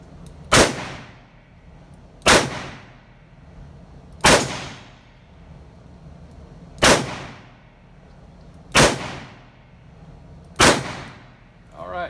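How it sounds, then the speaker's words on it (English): Six loud gunshots from a .45 automatic revolver loaded with a moon clip, each a sharp crack with a ringing tail, spaced roughly two seconds apart with no talking between them. "Let's fire this 45 automatic with the moon clip, and let's see how that works out."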